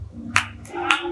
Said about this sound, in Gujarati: જેટલી તાળીઓ પાડો એટલી ઓછી છે આ સાહેબ માટે